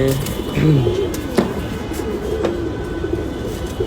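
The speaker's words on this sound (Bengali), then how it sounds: "আমার খুব শখের এই কবুতরগুলা" Soft pigeon coos repeat through a low, busy background with a few faint clicks, while a voice speaks over them.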